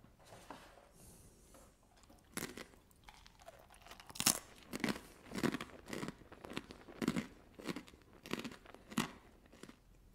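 Close, crisp crunching and chewing of a beetroot snack, a run of about a dozen sharp bites and chews in a steady rhythm, with no talking.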